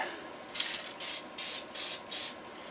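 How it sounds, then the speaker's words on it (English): Five short bursts of spray paint hissing from a can onto a Taylorcraft aircraft part under restoration, evenly spaced with brief pauses between, close and crisp. "I'm spraying it the opposite way, so hopefully less will flow"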